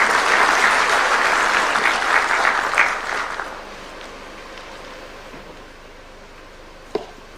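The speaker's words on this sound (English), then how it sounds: "Can we clap for Dr. James Mangi?" Crowd applause at an investment conference in Murang'a, Kenya, welcoming a keynote speaker: dense, loud clapping for about three seconds, then fading into a quieter room murmur with a faint knock near the end.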